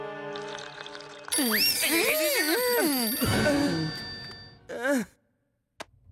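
A telephone ringtone in an animated TV show plays as a loud, warbling electronic melody with swooping tones, breaking off before a final short blip.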